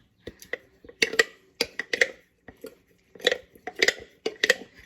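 A spoon scrapes and clacks against a bowl while stirring a thick flour-and-water sourdough starter, with irregular, close taps and scrapes arriving in uneven clusters.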